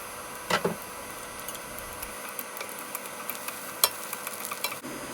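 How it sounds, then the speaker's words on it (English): Quiet, steady sizzling with scattered small crackles and pops from garlic sautéing in oil in a frying pan, close by. "Put some cooking oil into the frying pan and saute the garlic."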